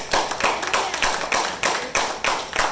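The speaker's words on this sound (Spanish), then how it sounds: "¿Cuánto le dan un aplauso al Señor?" A church congregation applauding together: a dense, loud wash of many hands clapping, with a steady rhythmic pulse of accented claps running through it.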